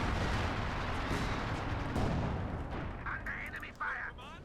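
Heavy mortar barrage in Company of Heroes 2 during a 4v4 match, a dense, continuous rumble of distant explosions and artillery impacts that fades slightly toward the end, with faint higher-pitched game sounds.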